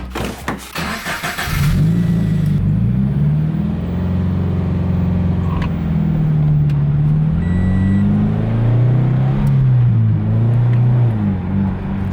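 Subaru BRZ with a newly installed engine pulling away, the engine note rising and falling through gentle revs, loud and close inside the car, alone without talk.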